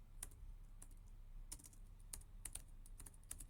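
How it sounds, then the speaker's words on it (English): Someone types on a computer keyboard in quick, irregular bursts of faint key clicks, close and quiet, with no talking. "So I need to type"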